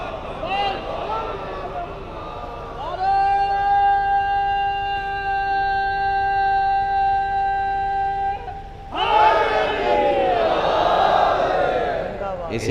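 Crowd at a religious gathering chanting slogans in unison, with a long sustained tonal chant in the middle section and overlapping voices rising loudly before and after.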